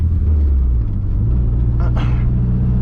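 A Nissan 240SX S13 with an SR20 engine and a new downpipe, rumbling loudly and steadily from inside the car, with a brief rise in engine note partway through.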